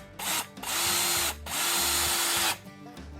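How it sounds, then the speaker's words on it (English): A power drill drives into a wooden walking stick during lanyard fitting, loud and close. It whines in three sustained bursts, each with short pauses between, and the motor pitch shifts slightly as it bites. "I'll put the drill back in right there"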